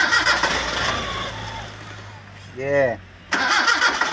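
A motorbike or car engine fitted with a replacement electronic part cranks briefly and fails to start, one short rising whir under loud nearby talk.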